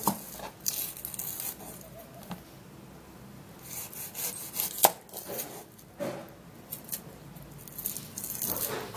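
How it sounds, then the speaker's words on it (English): A knife cuts half an onion into tiny pieces, producing irregular, close chopping taps and scraping strokes on a board, spread over several seconds with quiet gaps between bursts. "onion and have to cut it in tiny pieces"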